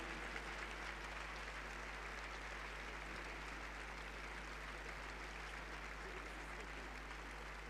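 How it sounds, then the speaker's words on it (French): A crowd at a Grand Palais show jumping event applauds, dense and sustained clapping that spreads evenly over the whole stretch, moderately distant and without pauses. "Et puisque vous êtes en train d'applaudir"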